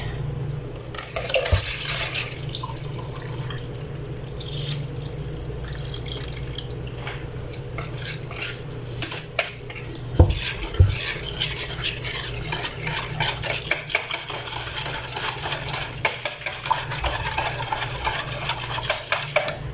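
Water is poured into a bowl of kadhi mixture, then a utensil stirs and scrapes against the sides in a steady, close, continuous rhythm with occasional splashes.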